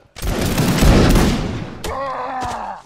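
Volley of gunfire from a historical reenactment artillery brigade, a single loud, sharp crack followed by a long rolling echo, then a shouted voice.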